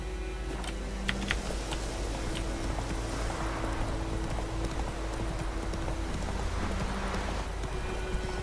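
Roach, the horse in The Witcher 3, gallops with rapid, rhythmic hoofbeats over a steady rumbling ambient bed, the clopping continuous and fairly close throughout.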